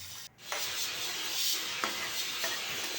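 Green chillies sizzling in hot tempering oil for sambar, a steady broad hiss with a few sharp crackles and stirring clicks, close and alone.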